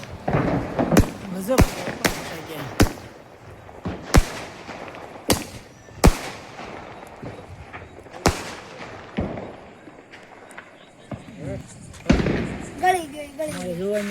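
Sharp firecracker bangs burst one after another at a night fireworks show, some close and loud, others fainter, with crackling and voices in between.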